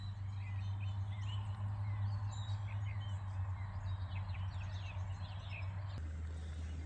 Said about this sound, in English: you got the birds constantly